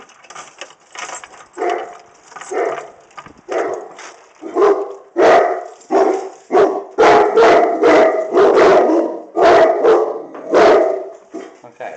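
Several dogs bark in repeated bursts, starting muffled and sporadic, then growing louder and more frequent, with overlapping barks and a few yips at close range.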